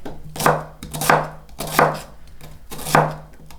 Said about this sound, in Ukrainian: Тепер я нарізаю цибулю.